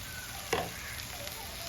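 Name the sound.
spice powder being stirred and fried in pan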